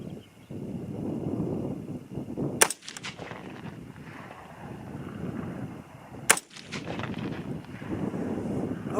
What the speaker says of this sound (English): It'll be 2 shots in pretty rapid succession, because that's how you actually shoot